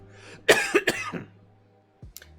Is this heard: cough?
yes